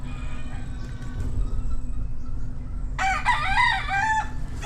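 A straight-breed White Hat gamecock rooster crows on a farm, one clear, loud crow rising near the end of the clip after a stretch of quiet background with faint birdsong.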